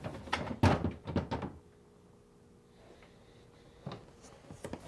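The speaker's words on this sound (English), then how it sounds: "Now, remove the top drawer by sliding it out and lifting up." A Whirlpool refrigerator drawer is slid out and lifted, giving a few close thunks and scraping knocks in quick succession, then a quiet pause before more faint handling clatter.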